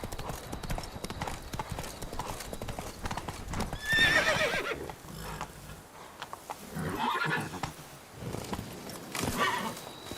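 Hooves of Roach, the horse in The Witcher 3, clip-clopping at a quick gallop, loud and close, with a couple of whinnies rising over the rhythmic beat.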